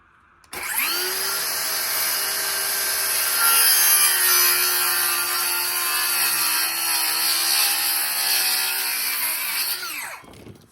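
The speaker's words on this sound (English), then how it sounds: "I'm just gonna start cutting and screwing up some boards." A power saw cuts through wooden boards in one loud, continuous whine lasting about ten seconds, close by, starting abruptly and winding down at the end, with no talk.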